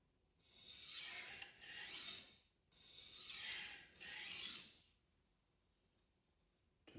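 A Damascus Miyabi knife blade is drawn across a wet Japanese waterstone in soft, hissing strokes, two pairs of slow sweeps close by, then quieter, lighter scrapes at the end.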